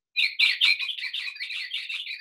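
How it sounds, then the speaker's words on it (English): Birds chirp and squawk in a rapid, close series of bright calls, starting loud and continuing in a steady stream for about two seconds, with no other sound beneath. "Look out for those birds!"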